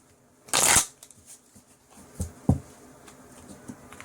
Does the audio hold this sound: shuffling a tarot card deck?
yes